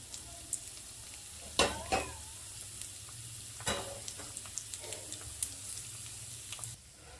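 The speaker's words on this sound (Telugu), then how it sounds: "నెయ్యి వేడైందండి ఇందులోని ఒకటి పెసరపప్పు వేసేసి సిమ్లోనే ఫ్రై చేసుకోవాలండి" Moong dal fries gently in hot ghee on low heat for a sago and moong dal payasam, giving a faint, steady sizzle broken by a few sharper scraping stirs, close and without talk.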